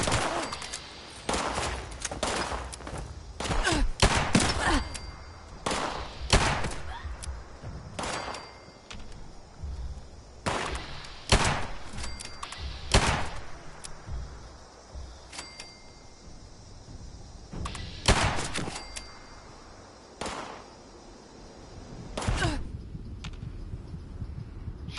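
Gunfire in the Fallout 76 game, a series of sharp, loud shots and short bursts spaced irregularly across the span, with quieter gaps between them and no talk.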